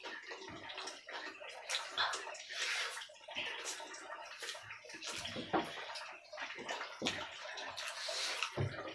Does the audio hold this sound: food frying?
no